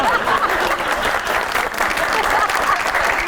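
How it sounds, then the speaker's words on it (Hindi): Studio audience applause on a Pakistani comedy talk show, a dense, sustained wash of clapping that stays loud and steady throughout with no pause. "लो जी, ताली होनी चाहिए।"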